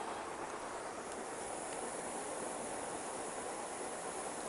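A RadioShack butane soldering iron burns with a steady, even hiss of flame that holds constant and faint throughout, with no talking.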